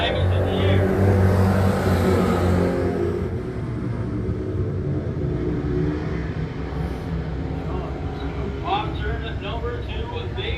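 Fabco Dirt Car Pro Stock race cars qualifying on a dirt oval speedway: a loud, dense roar of engines that peaks early, then settles into a steady, rumbling drone.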